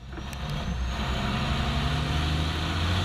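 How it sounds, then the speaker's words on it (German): An Iveco racing truck accelerates hard on track at the Jarama circuit during an FIA European Truck Racing round, a loud, steady diesel roar that holds constant throughout, with a faint hiss near the start. "die Beschleunigung des Iveco Trucks einfach enorm"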